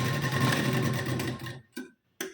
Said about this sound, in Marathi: हे बघा अर्धा इंचाची शिलाई देऊन घेतली शोल्डरला.